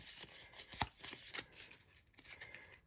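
Playing cards being shuffled, a quick riffle of crisp papery flutters with a few sharper snaps, close up and fairly quiet, no talking.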